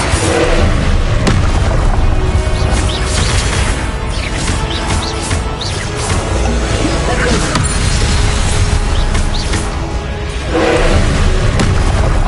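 Confringo fire spells explode in the video game Hogwarts Legacy, a loud, dense barrage of booming blasts and crashes that rolls on without pause.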